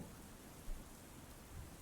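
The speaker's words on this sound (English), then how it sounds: "the rain also begins to pick up a little bit more" Steady rain ambience with the sense of rising water current, used as background for a tabletop game session about repairing a bridge; a dense, even hiss with soft low rumbles and no voices.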